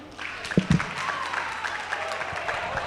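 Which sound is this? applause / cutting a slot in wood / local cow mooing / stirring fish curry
applause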